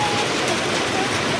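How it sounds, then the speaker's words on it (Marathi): Steady, dense rain with hail falls close by in a village during the first rain of May, a continuous broadband hiss and patter that holds level throughout. "मे महिन्यामधला पहिला पाऊस."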